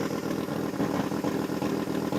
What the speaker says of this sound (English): Derek DeMore on that rev limiter, just waiting to be told to go, chomping at the bit